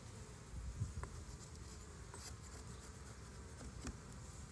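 Honey bees hum faintly in an open hive during an inspection after smoking, a soft continuous buzz with a few brief clicks of handling, no voices.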